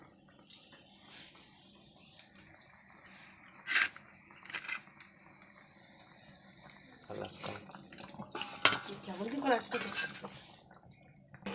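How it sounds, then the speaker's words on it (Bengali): Pieces of catla fish dropped one by one into a pan of simmering dhaba-style fish curry, giving a series of wet plops, squelches and splashes that grow busier toward the end. "তো এক এক করে মাছগুলো ছেড়ে দেবো।"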